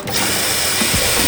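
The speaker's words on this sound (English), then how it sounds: "And then we're gonna have to drill in some holes." A power drill bores holes in a car fender liner on a BMW G80 M3, giving a steady loud whirring grind for just over a second, close up and alone.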